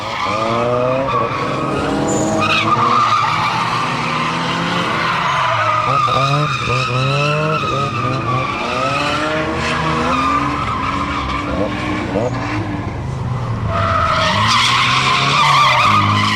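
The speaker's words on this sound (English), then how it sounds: "The tight, winding corners keep speed down, so it is a safe place to practice drift techniques." Racing video game car drifting through the tight, winding corners of a school course, tires squealing in long continuous screeches over a steady engine drone throughout.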